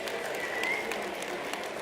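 Brief burst of steady audience applause at a winter speaker series event, even and moderately loud for the whole moment.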